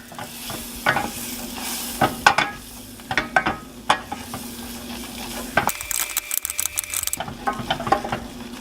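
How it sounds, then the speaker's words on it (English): Flour being stirred into melted butter in a pan to make a roux, with a steady, close scraping and clicking of the utensil over a soft background sizzle and no talking. "Essentially what we're making is a roux. We mix it all up."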